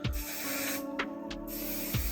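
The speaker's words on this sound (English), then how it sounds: "I don't spray it too close to my head because I don't want it to be wet when I'm spraying it on" Kevin Murphy texturizing hair spray hisses from an aerosol can in a few close, steady bursts with brief pauses between them, held at a distance from the head while styling messy beach waves.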